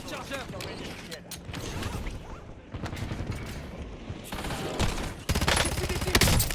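Heavy automatic gunfire in Call of Duty Warzone, with dense overlapping bursts and loud rapid shots running nonstop, amid game effects and a spoken voice line.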